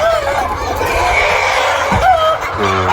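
Andijan black chickens, about six months old, cluck and chortle in a coop, with a short nearby crow-like call near the end over steady barnyard background noise.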